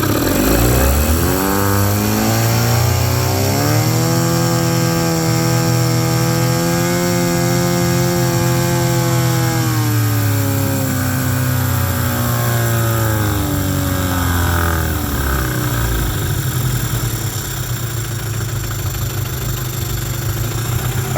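A 1997/98 Mercury 15hp long-shaft two-stroke outboard motor runs in gear, loud and close, its revs climbing, holding high for several seconds, then dropping back toward idle.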